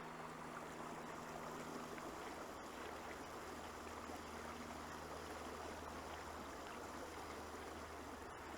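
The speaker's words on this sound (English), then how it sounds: "North side of the ancient creek." An ancient creek flows steadily with a constant, even rush and trickle of water from start to end, fairly faint and with no voices.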